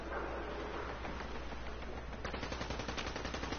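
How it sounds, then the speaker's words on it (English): Close, rapid automatic gunfire in the video game Fallout 4, a dense unbroken burst of shots that keeps rattling for several seconds without any talk. "The shooting is really close."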